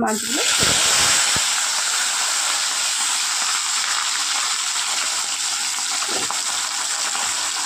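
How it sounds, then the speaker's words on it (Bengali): Amudi fish coated in salt and turmeric frying in hot oil, a steady loud sizzling hiss that runs the whole time with a few faint clinks near the start. "মাছগুলো ভেজে নিয়ে আসছি।"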